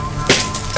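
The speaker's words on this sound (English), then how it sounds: "we heard broken glass" Glass breaks once: a short, bright crash and tinkle rising briefly over steady room noise, fairly close, with no talking.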